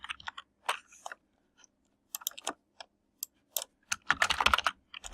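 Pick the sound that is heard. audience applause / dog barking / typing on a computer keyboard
typing on a computer keyboard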